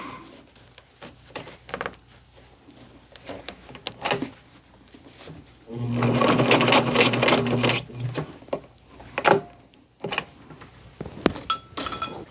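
Sewing machine running a wide zigzag stitch to join strips of fabric for an upcycled braided beach dress, short bursts of stitching with clinks and handling noises between and one longer loud run in the middle.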